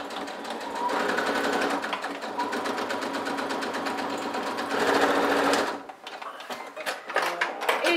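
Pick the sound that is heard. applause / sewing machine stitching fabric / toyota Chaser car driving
sewing machine stitching fabric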